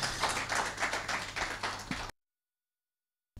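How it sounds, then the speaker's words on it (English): Forum audience claps for a speaker in a brisk burst of rhythmic hand claps lasting about two seconds, then cuts to silence before a brief return of clapping at the end. "Let's clap for her."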